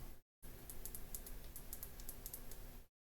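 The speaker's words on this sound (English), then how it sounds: "It's got good clicking noises though." A small electronic component being fitted for a Lego RC car build gives a quiet series of sharp, irregular clicks over faint steady background hiss.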